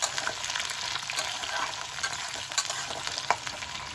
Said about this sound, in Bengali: দিয়ে এবার রসুন, লঙ্কা, আলু ভালো করে ভাজা ভাজা করছি।